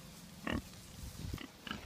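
Pigs from a pig farm, now out in a garden, give several short grunts and oinks close by, one louder squeal-like grunt early and softer ones after, with no talking.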